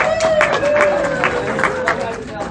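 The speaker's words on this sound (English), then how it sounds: "Give yourselves a round of applause." Audience at a Triple Play convention in Atlantic City, New Jersey, applauding and cheering after a group wave exercise, a crowded hall of claps and excited voices mixed with chatter.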